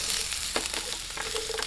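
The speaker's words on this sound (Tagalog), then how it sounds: "umpisahan muna po natin prituhin tong patatas at carrots" Potatoes and carrots fry in a pan with a steady, close sizzle and crackle, plus a faint scrape or two as the pieces are stirred.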